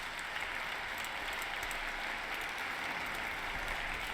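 Continuous applause from many hands, an even, dense patter that holds at a constant level from start to finish with no voices.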